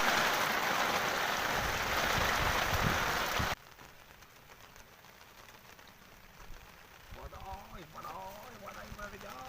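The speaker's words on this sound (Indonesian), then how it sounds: "hujan" Rain falls steadily on a surface at a Cirata reservoir fishing spot, a dense loud hiss that cuts off abruptly, followed by quieter ambience with someone talking.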